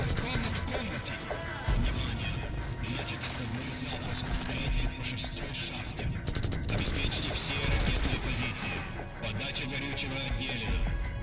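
Gunfire in the video game Call of Duty 4: Modern Warfare rattles in dense, near-continuous bursts under a loud battle din, with voices talking throughout.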